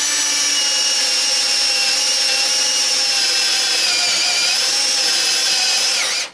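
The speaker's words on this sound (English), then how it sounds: "as the drill bit's going around, we should be able to see it and know when we've gone far enough." Power drill boring holes through snowmobile body panels to mount a Garmin Echomap gimbal, a steady close whine running throughout and dropping off abruptly as it stops.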